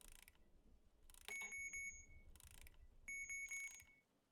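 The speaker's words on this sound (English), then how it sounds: "Turn out the fucking alarm." Alarm going off in a horror video game on the Switch, two short bursts of shrill, ringing bell-like tones separated by a pause, quiet and electronic over a faint background.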